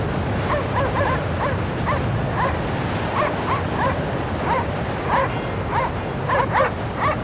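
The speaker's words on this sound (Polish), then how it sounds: "Dwa pieski." Two dogs in the arctic video game Cryostasis yip and bark repeatedly in quick, uneven bursts over a constant low rumbling ambience.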